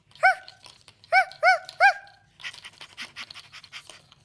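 Dog barking in a cluster of four loud, close yaps, the last three in quick succession, followed by softer panting and snuffling sounds.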